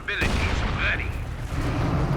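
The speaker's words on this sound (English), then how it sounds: "There's their heavy mortar." A heavy mortar firing in a Company of Heroes 2 multiplayer battle: a single muffled thump near the start, set among battlefield noise with a voice speaking over it.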